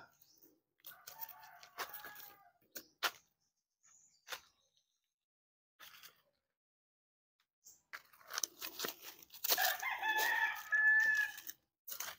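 A rooster crows at a rural Philippine farmstead among banana plants, with other birds calling around it; the calls come in scattered bursts, then grow louder and more sustained near the end, fairly close and clear with no talk.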